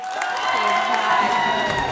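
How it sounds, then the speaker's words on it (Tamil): An audience applauds and cheers for the singers at a Tamil TV singing show, a steady dense wash of clapping with a few voices rising above it. "ராமரையாவுக்கும் ஆனாவுக்கும் ஒரு கைத்தட்டல் கொடுங்க"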